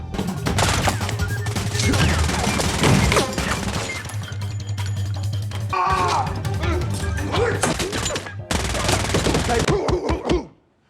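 Rapid gunfire crackles through a crime-action film scene, with loud bursts of shots continuing almost without a break and voices shouting in between.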